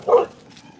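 A dog gives a single short bark up close at the start, followed by a faint, quiet room.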